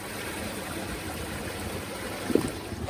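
Water from a koi pond filter flushes to waste in a steady rushing gush with a small splash near the end, moderately loud and with no voices.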